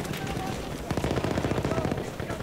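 Rapid automatic gunfire from the video game Battlefield 1 rattles in a steady burst over a dense battle din, fairly loud and close.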